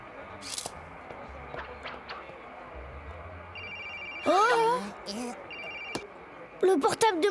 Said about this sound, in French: Le portable de Madame Vinaigre